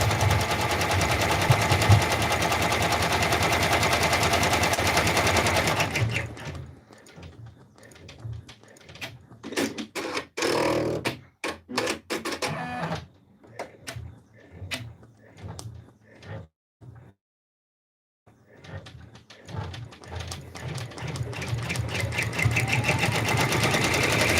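A multi-needle embroidery machine stitches an in-the-hoop stuffed raccoon toy, a fast rapid mechanical clatter running close and steady, breaking into stop-start bursts of needle strikes and a brief silence before the continuous stitching resumes.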